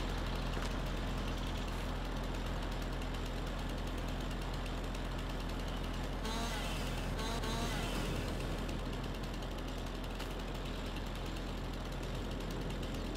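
A video game vehicle engine in Landwirtschafts-Simulator 22 idles with a constant, knocking rumble that holds steady throughout, faintly clattery.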